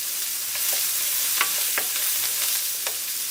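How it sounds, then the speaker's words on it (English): Garlic and thyme sizzle in a hot pan with a steady hiss of frying, broken by several scraping clicks of a utensil as the mixture is stirred. "once you start to hear that sizzle, guys, go ahead and stir it up"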